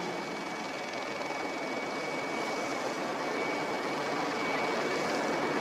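Airplane slowing on a runway during an emergency landing with burning tires, a steady loud roar of engine and rushing noise without breaks.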